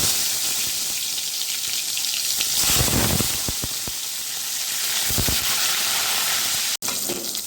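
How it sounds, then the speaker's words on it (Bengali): Salted, turmeric-coated pointed gourd (potol) frying in hot mustard oil in a kadai: a loud, continuous sizzle with bursts of crackling and a few utensil clatters close by. "আমি এবার পটলগুলো ভেজে নেব।"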